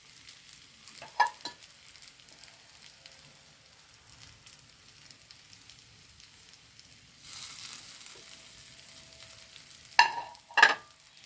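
Fried eggs in a pan on a gas stove: a faint steady sizzle with scraping clicks from a utensil, swelling briefly into louder hissing, then a couple of sharp knocks near the end.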